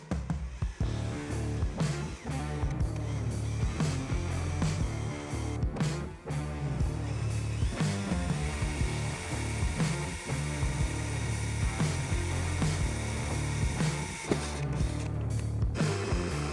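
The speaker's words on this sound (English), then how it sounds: "So we'll go ahead and drill these" A power drill whirs steadily up close, drilling 3/8-inch holes in roof rack trim on a 2022-2023 Lexus LX600, its motor droning with brief dips and surges as it bites through the material.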